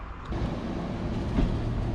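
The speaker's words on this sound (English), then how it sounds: "This is the train." A train passes at a station along the Camino de Santiago coastal route between Noja and Santander, a steady, close, loud rumble with a slight swell near the end.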